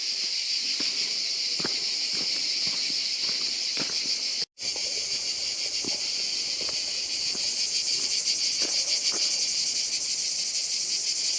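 Cicadas chirping outdoors near the Pont du Gard in southern France, a steady, loud, shrill buzz that fills the air and cuts out briefly before resuming, with faint footsteps beneath.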